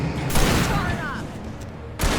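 Loud bursts of gunfire in the video game Alan Wake, heavy booming shots at the start and end with rumbling in between, close and dense.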